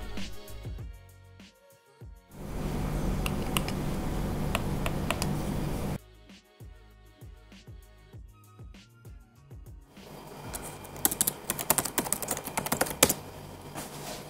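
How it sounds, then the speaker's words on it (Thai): LEVEL51 laptop touchpad and keyboard tested in turn: sparse sharp touchpad clicks, then a dense burst of rapid key typing, more scattered clicks, and finally brisk uneven keystrokes, close and clear with no voices. "ทีนี้ก็ต้องเป็นเสียงทัชแพดกับคีย์บอร์ด"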